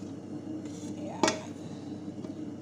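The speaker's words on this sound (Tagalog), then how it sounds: "ilalagay ko na yung gulay." A single clattering clunk as vegetables drop into a metal pot of meat being cooked for marag sabzi, one brief knock over a quiet kitchen background.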